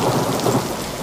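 A torrential downpour roars as a dense, steady hiss of heavy rain, with thunder rumbling through it. It is loud and close, with no voices.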